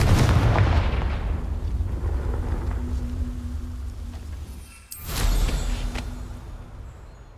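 A Confringo fire curse from Hogwarts Legacy bursts with a loud, booming explosion at the start, followed by a long rumbling roar that fades out, then a second sharp blast near the end with a sustained low rumble.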